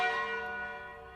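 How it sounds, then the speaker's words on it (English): Church bells of St. Giles ring with long, deep sustained tones, a rich stack of overtones humming steadily and slowly fading, with no voices over them. "Intolerably long and deep, St. Giles's bells swing on in sleep."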